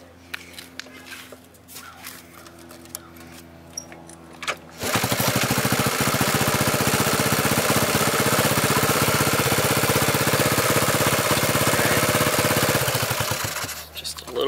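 A Honda Z50 small motorcycle engine catches after a kick start and runs at a fast, loud buzzing idle, preceded by brief mechanical clicks and a voice speaking.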